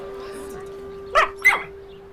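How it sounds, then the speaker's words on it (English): Patch, the cartoon dalmatian puppy, gives two short, yappy barks in a barking contest, close and clear, over a steady low hum. "Now he has to do his best bark"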